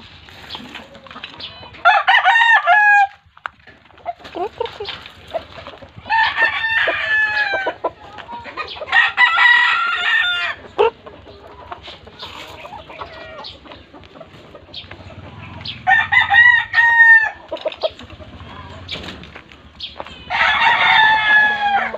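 Loud chickens nearby, repeated crowing calls and clucking in bursts with brief quieter gaps between them.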